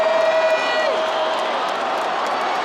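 A football stadium crowd at an NFL playoff game roars and cheers as one steady, far-off wash of sound, with whistles and scattered whoops riding on top.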